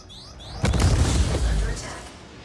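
Torpedo volleys striking raised ship shields in a space combat game, a loud low boom rising sharply and rumbling on for over a second before easing off, alone without talk.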